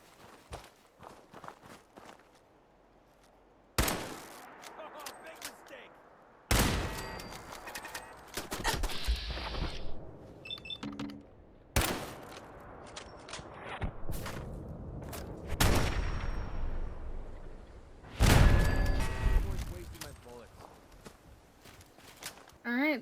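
Bursts of gunfire in Fallout 4 tear into defensive turrets at the Covenant compound: several loud, sharp volleys separated by quieter gaps, with footsteps and someone talking between shots.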